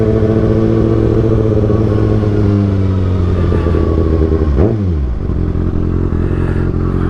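Kawasaki ZX6R motorcycle fitted with an Austin Racing GP1RR exhaust, idling after a cold start with a loud, steady low burble; a single quick throttle blip rises and falls midway before it settles back to idle.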